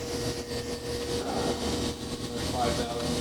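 Sustained whine and hum of a Fadal 4-axis CNC vertical machining center with a 40-taper spindle running in high gear around 3,000 RPM, steady and close, with a person talking over it.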